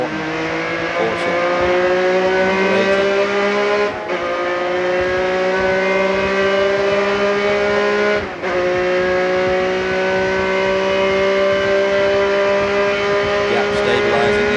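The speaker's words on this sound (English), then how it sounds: "Unmistakable Porsche sound." Steady high-pitched Porsche race car engine at sustained speed during a night endurance race on a slick track, loud and continuous with brief gear-shift dips, while a commentator talks over it.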